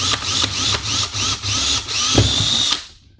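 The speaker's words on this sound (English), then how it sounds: "We're just gonna go through, drill another hole in it" A power drill whines at high pitch in repeated bursts, briefly easing between pushes, as the bit bores a hole through a vacuum seeder plate, then winds down and stops.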